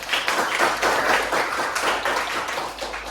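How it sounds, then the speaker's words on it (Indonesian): A classroom of students claps together for a classmate, a brief, dense burst of applause that carries steadily at close range with no talk over it. "tepuk tangan untuk Najib."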